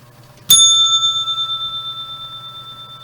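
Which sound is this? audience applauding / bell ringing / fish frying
bell ringing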